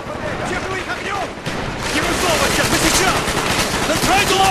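Gunfire in the Call of Duty Black Ops video game on Xbox 360: loud, sustained automatic fire and overlapping shots in a chaotic combat scene that grows denser partway through.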